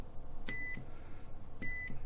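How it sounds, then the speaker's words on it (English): Two short electronic beeps from a buzzer wired across two pins of a push-button switch, sharp and tonal, spaced about a second apart over a quiet room. "So if I put my buzzer on the 2 pins here"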